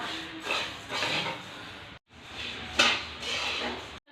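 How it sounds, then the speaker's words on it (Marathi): Coriander seeds being stirred and roasted in a kadhai over medium heat, heard as a series of close scraping and rattling strokes of a spoon against the metal pan, with a brief pause partway through. "मिडियम गॅसवरती एकसारखे हलवत मस्त असे खरपूस धने भाजून घ्यायचे"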